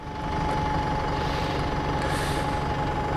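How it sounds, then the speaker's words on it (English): A bus rumbles close by in traffic beside a motorcycle, a steady loud engine drone with a faint whine, no voices. "I'm going to wait for this bus to move out of the way because he's going to need a wide berth"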